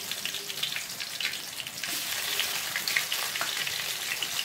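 Ginger garlic paste fries in hot oil in a pan, a dense, steady hiss and crackle with a few soft stirring scrapes, close and alone.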